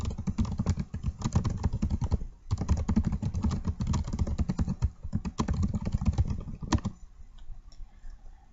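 Steady, close typing on a computer keyboard with rapid clustered keystrokes, a brief pause near the middle, then the clicking thins out and stops toward the end; no voices.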